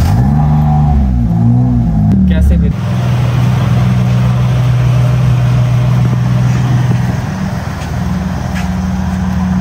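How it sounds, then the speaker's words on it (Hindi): A car engine idles steadily close by after a brief start-up burst, its low hum running throughout on a hot sunny day at a gate, with a voice speaking briefly near the start. "गाड़ी की अभी आवाज़ चेक करना तुम लोग"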